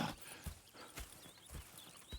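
Horse hooves clip-clop in a steady walking rhythm in the Western open-world game Red Dead Redemption 2, fairly close and soft, with light ambient game sound and no talk.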